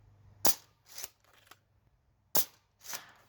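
A Nerf blaster fires foam darts on an outdoor range, four sharp pops spaced about half a second to a second apart, each with a brief airy tail, with no talking.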